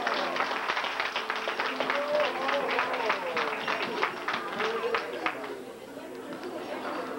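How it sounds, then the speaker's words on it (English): An audience at a 1990 Assembly of God Christmas gathering claps steadily in a lively, even patter, with voices chattering over the applause before it tapers off near the end. "Just stand out and clap."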